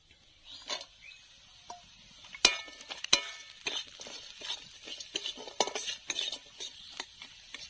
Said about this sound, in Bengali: এবার এর মধ্যে কাঁকড়াটা দিয়ে দেবো।